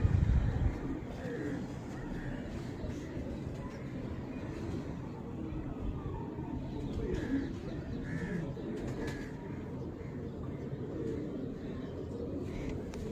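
Slaty pigeons cooing in soft, repeated low calls spread across the stretch, heard at moderate distance over a steady background hum with faint outdoor noise.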